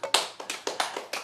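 A church congregation claps together in a quick, steady rhythm, about half a dozen sharp, close claps in a short burst with no talking.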